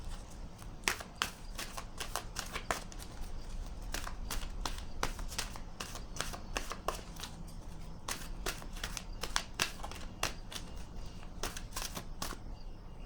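An oracle card deck riffled and shuffled by hand in repeated crisp bursts of snapping cards, steady and close, with brief pauses between rounds.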